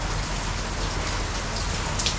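Steady rain falling outside a guesthouse on Gili, a dense unbroken hiss of drops on surfaces close by, with no voices.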